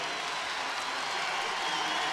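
Kansas crowd in an arena at an NCAA tournament Elite Eight basketball game, a steady dense roar of cheering and applause, loud and continuous.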